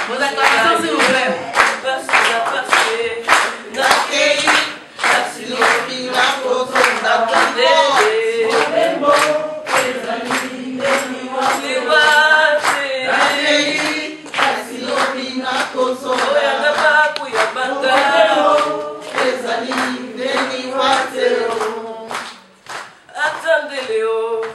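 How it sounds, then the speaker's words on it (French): Continuous applause and cheering from an audience at an organized community event in Kinshasa, loud and sustained with rhythmic clapping over music or voices throughout. "Vos acclamations, s'il vous plaît."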